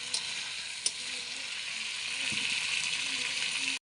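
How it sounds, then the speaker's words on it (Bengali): Mutton pieces sautéing with spices in an oily pan, giving a steady close sizzle and frying crackle throughout with one sharp clink from the utensil early on. "মাংসটা ভালো করে আমি কষে নেব"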